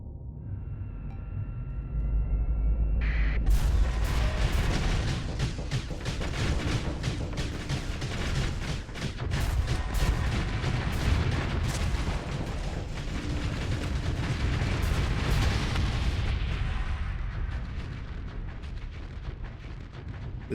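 Sun jet and sunfire energy weapons fire in a space battle in the modded game Starsector, a dense barrage of booming blasts and crackling bursts that rolls on continuously and loudly, with no talk over it.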